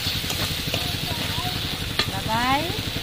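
Slit tomatoes dropped into a pan of oil-released spice paste for a Bengali mixed-vegetable chhokka, giving a steady close sizzle and frying crackle with stirring scrapes, while a voice speaks briefly over it.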